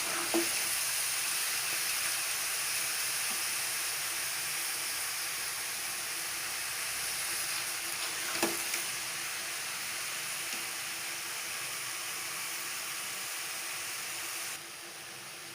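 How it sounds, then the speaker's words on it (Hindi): Zucchini pieces frying in a pan for a curry give a steady, close sizzle that holds throughout, with a couple of brief stirring clicks and a slight drop in level near the end. "सब्ज़ी अब फ्राई हो रही है।"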